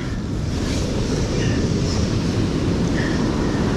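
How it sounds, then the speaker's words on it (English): Ocean waves wash onto a beach at night in a steady, broadband rush with wind buffeting the microphone, continuous and fairly loud throughout with no talking. "We'll just keep an eye on the waves."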